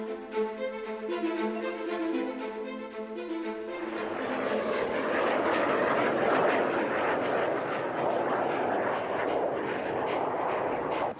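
Loud aircraft roar, an airplane passing overhead near a residential area; a broadband rumble swells in after about four seconds and holds steady, following an earlier tonal musical passage.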